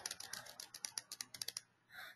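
Fast typing on a computer keyboard while a name is entered into a text box on a presentation slide: about a dozen crisp, close keystrokes in an uneven burst, followed by a brief pause and a soft breath.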